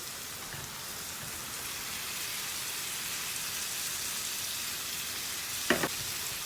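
Chicken pieces frying in a pan for a chicken and green bean curry, a steady hiss of sizzling oil throughout with a brief louder crackle near the end, no talking.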